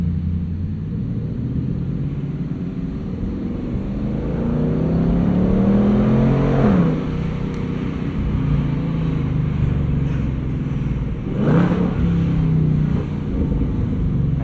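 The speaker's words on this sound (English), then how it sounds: "I imagine though we are still in track exhaust mode because it's making a right racket still." Loud, steady exhaust rumble from a 2024 Ford Mustang Dark Horse (S650) in track exhaust mode, droning throughout with a couple of brief revving swells and no talking.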